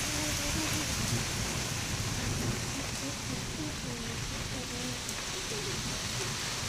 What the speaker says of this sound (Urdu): میرے کیمرے سے بارش ہو رہی ہے